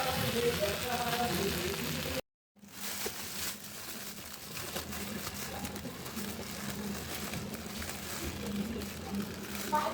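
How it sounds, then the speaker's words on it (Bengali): Taro (kochu) flowers frying in a pan, a soft, steady sizzle and crackle that briefly cuts out, then resumes quietly under a woman's speech. "আর কচুর ফুলটা অলমোস্ট রান্না শেষ। এই যে ভাজা ভাজা করে নিয়েছি"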